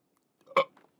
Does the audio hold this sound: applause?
no